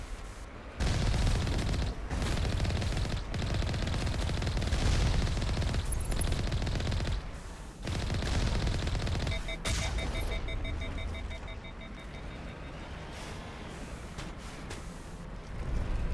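Rapid automatic fire from a gun in Mass Effect, loud, close and sustained in long bursts with brief gaps, then easing off as a thin electronic beeping tone rises near the end.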